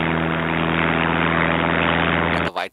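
A loud, steady airplane engine drones with a propeller-like hum, continuous and close, then cuts off abruptly near the end.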